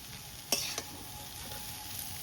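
Chowmein with masala fries in a pan with a steady low sizzle, broken by a couple of sharp scraping stirs of a spatula, close and quiet, no voices.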